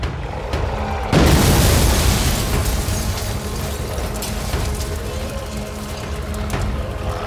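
A loud explosion in a zombie audio drama, a sudden deep boom that bursts out and then rolls into a long roaring, rumbling aftermath of fire and debris, with a few faint crackles and thuds.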